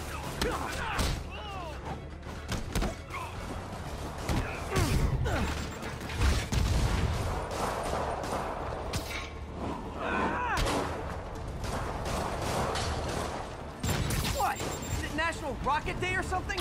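Rockets fire repeatedly in Marvel's Spider-Man video game, with heavy booming blasts, thuds and mechanical clatter that keep up throughout, mixed with voices.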